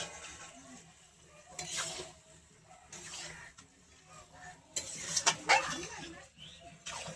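Chicken cooking in a pan in a village kitchen, with soft sizzling and intermittent stirring scrapes, sharper clatter around five seconds, close and moderately quiet.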